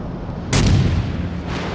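Naval guns fire in the World of Warships game as a super heavy cruiser battle plays out: a single deep, booming shot that swells suddenly and rumbles off over a steady low background drone.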